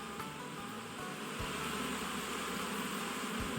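A dense swarm of bees hums steadily around multi-storey, five-tier beehives in Zaqatala, a continuous close buzzing drone with no talking.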